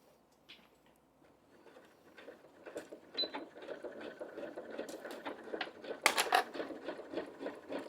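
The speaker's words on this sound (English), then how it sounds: "we're just going to sew across that clipped edge on each of our 4 corners at around 1/4 inch seam allowance" Sewing machine stitching across the clipped corners of a fabric bag, a quiet rapid mechanical whir that starts softly and builds to a steady patter, with a few sharper clicks near the end.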